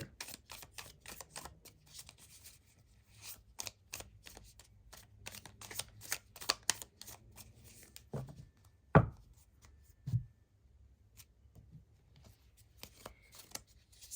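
Oracle cards are shuffled in a rapid run of crisp riffling flicks, then slowed to a few separate cards being drawn and laid down with soft slaps, close and quiet.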